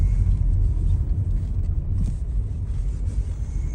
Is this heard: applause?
no